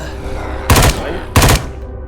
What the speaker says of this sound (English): I like the speed of the weapon firing